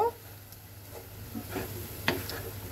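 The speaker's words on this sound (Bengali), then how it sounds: "আর সেমাইটাকে সুন্দর করে মিক্সড করে দেব।" Vermicelli (semai) stirred in a pan over low heat, with soft scraping strokes and faint sizzling, a few sharper clinks of the utensil against the pan, quiet and close.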